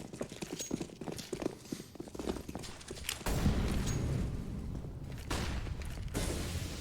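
Footsteps during a professional Counter-Strike match on the Train map: about three seconds of quick, crisp clip-clop tapping, followed by a louder, steady wash of game noise.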